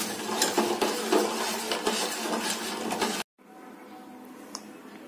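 A spoon clinks and scrapes steadily around a vessel as jaggery is stirred into colostrum milk, close and continuous for about three seconds before cutting to a quieter, softer stretch of stirring.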